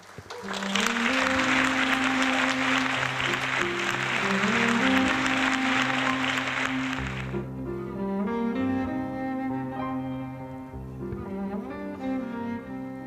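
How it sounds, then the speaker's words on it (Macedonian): Warm audience applause welcomes the student assembly vice president at the AUE-FON 2025 diploma ceremony and patron day. It rises quickly, holds steady for about six seconds over soft background music, then fades and leaves the music playing alone. "Ве покануваме да ја поздравиме со силен аплауз Стефанија Прванковик"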